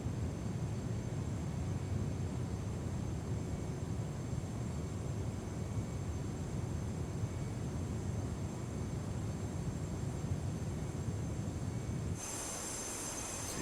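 Airplane engine in Microsoft Flight Simulator, a steady loud drone with broadband roar held constant throughout, changing tone only in the last second or so as the flight approaches a runway.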